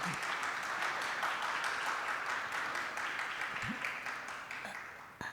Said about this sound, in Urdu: تو یہ ایک تالی ان کے لیے